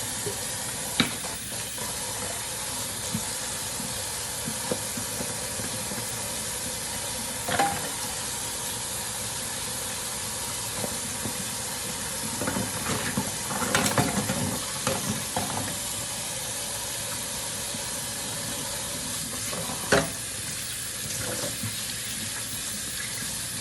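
Baby bottles and nipples being washed under running water at a sink, a continuous close rush of flowing water with scattered clinks, splashes and handling knocks, no one speaking.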